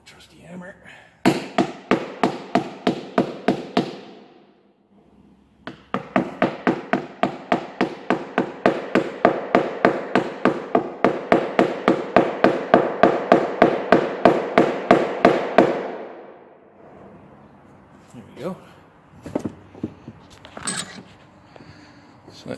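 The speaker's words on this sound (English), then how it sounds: "Trusty hammer." Rapid, steady hammer blows ring out as a bung is hammered into a wooden whisky cask, two long runs separated by a pause, loud and close, followed by scattered lighter knocks and shuffling.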